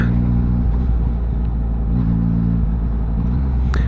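Road traffic around a Yamaha MT-09 motorcycle in motion, a loud steady engine rumble with low droning tones and passing vehicle noise, ending in a brief sharp squeak.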